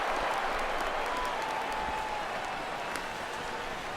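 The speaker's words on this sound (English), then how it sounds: "This crowd oohs and ahs every time this guy hits a fly ball" Virtual baseball stadium crowd in MLB The Show 16 on PS4, a steady broad roar of cheering and applause that holds evenly throughout with scattered claps rising out of the wash.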